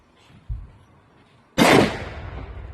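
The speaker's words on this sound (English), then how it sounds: "He is going to be blowing up a couch" Two pounds of tannerite detonating beneath a couch outdoors, a sharp loud blast following a smaller thud, with a rumbling roll-off that fades over a second or so.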